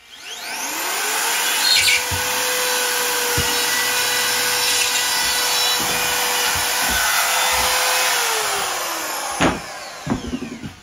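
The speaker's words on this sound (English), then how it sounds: "The RotoZip makes it nice and clean because you're going to follow the edge of the box to make the holes." RotoZip spiral-cutting rotary tool plunging and routing holes in drywall along the edge of an electrical box, a steady high-pitched motor whine running almost continuously, with a few knocks and clicks near the end.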